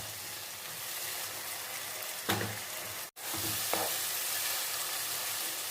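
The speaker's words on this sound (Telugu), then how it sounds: "ఇప్పుడు ఇందులో మనం టమాటా ముక్కలు వేసేసుకుందాం. ఇవి కూడా బాగా ఆగనిద్దాం." Tomato pieces fry in a pan for a chicken and chana dal curry, giving a steady close sizzle with a couple of brief stirring scrapes and one short dropout midway.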